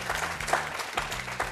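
An audience applauds trophies at a French-language youth event, steady clapping that runs for a moment with faint voices mixed in.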